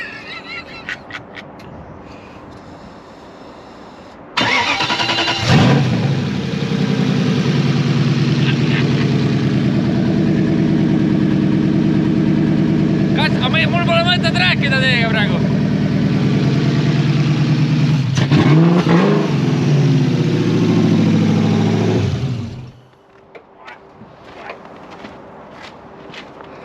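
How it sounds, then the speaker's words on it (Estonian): A car engine, silent at first, turns over and catches, then idles in a steady low drone with a few revs rising and falling before it cuts off abruptly; someone talks briefly over it. "Auto töötab ja käib nii, nagu ta peab käima."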